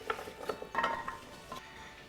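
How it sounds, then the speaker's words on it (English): Chopped sweet potatoes being tipped into a roasting tray, giving soft clatters and a brief scraping tumble of pieces against metal, close and quiet, with no one speaking. "I'll just grab a roasting tray and chuck it all in."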